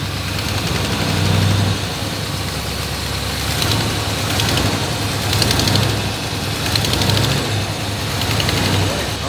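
A 1962 Chevrolet Impala V8 idles steadily right after its first start, with a low rumbling pulse and a possible exhaust leak ticking through, close and continuous while people talk nearby.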